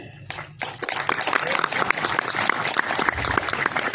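Applause and clapping from an audience at an Indonesian religious lecture, a dense, steady patter of many hands that starts after a brief quiet moment and continues evenly throughout.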